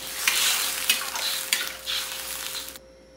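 Food sizzling in a pan while being stirred, with a few sharp utensil scrapes and a continuous frying hiss that cuts off abruptly at the end, no talking.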